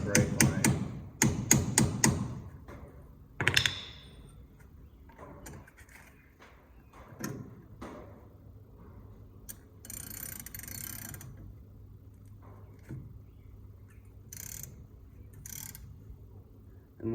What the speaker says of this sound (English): grab a 14mm socket and remove this banjo bolt